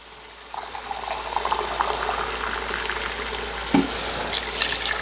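Water poured into a pot of rice for a coconut chicken pulao, a steady close pouring and bubbling splash running almost throughout after a brief quiet start, with one sharper knock near the end.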